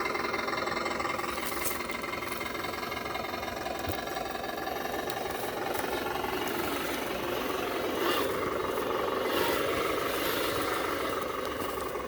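Brushless-motor RC crawler truck, an SCX6 Clod build with two brushless ESCs, runs steadily at about three-quarter throttle outdoors, giving a continuous mid-pitched motor whine with gear and drivetrain buzz throughout, fairly close and unbroken, no talking.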